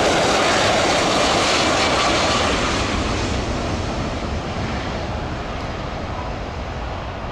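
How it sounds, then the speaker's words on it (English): A Boeing 767 lands with repeated bounces down the runway, heard as a loud, steady roar of jet engines and rushing air that fades slightly toward the end, with no talk. "This Boeing 767 struggling to land, bouncing multiple times down the runway."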